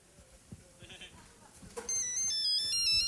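A mobile phone ringtone starts partway through and plays a bright, steady electronic melody, following quiet rustling and faint voices.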